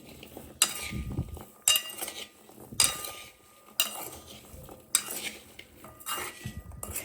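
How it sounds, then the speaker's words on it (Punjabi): A spoon stirs spices into ginger pickle in a bowl, giving a series of close metallic clinks and scrapes in an irregular rhythm, with quieter mixing between them. "ਸਾਰੇ ਮਸਾਲੇ ਆਪਾਂ ਇਕੱਠੇ ਐਡ ਕਰ ਦੇਣੇ ਆ ਇਹਨੂੰ ਮਿਕਸ ਕਰਾਂਗੇ"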